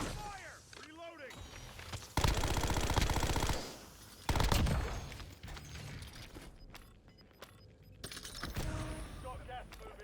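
Rapid automatic gunfire in a Call of Duty-style shooter, loud bursts of rattling shots with mechanical clatter between them, while game voices call out over the fighting.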